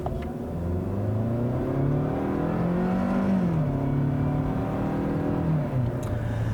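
A 2018 Hyundai Sonata Limited with the base 2.4-liter, 185-horsepower engine hums steadily while driving on the road, its low engine drone rising and falling gently in pitch, heard from inside the cabin without talk.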